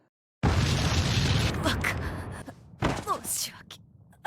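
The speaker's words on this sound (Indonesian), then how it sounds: "Kemudian terjadi ledakan." A sudden loud boom bursts out of silence, rumbling and fading over a couple of seconds before a second burst of crashing noise and voices.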